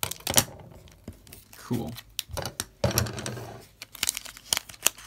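Japanese trading card packs are torn and crinkled open in quick, close bursts of foil rustling and ripping, with a person talking between and over the sounds.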